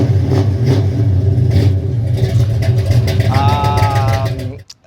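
A loud, close muscle car V8 engine idles with a deep, lumpy throb that pulses steadily, rising briefly before cutting off at the end.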